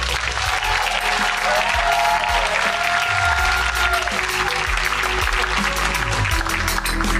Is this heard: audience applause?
yes